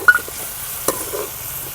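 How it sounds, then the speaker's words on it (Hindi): Onions brown in a pan for a curry, with a faint sizzle under scraping stirs of a spoon and a sharp clink or two, close by and with no talking. "तो ये प्याज ब्राउन कर रहे हैं"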